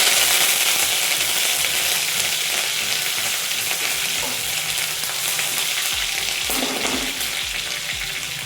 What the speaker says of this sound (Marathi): कढीपत्ता टाक.